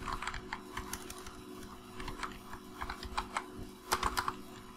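Soft, quiet keystrokes on a computer keyboard while Python code is typed, irregular taps in short bursts over a low steady background hum.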